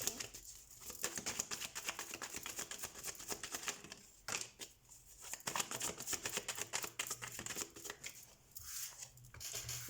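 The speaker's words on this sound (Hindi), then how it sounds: "तो सबसे पहले हम कार्ड शफल कर लेते हैं।" Tarot cards are shuffled in quick riffling bursts, papery flutters and snaps separated by two brief pauses, fairly close and soft, with no voice.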